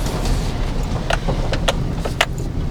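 Close inside-cab rumble of an old pickup truck engine running steadily in second gear, with small rattles and clicks scattered over the low drone.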